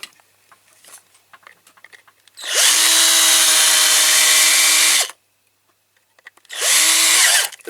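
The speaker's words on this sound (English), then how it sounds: "Do I drill that and just glue it on?" A power drill bores into a die-cast Matchbox King Size K-24 Lamborghini Miura model car part in two loud, close, whining bursts, the first about two and a half seconds long, separated by quiet handling noises.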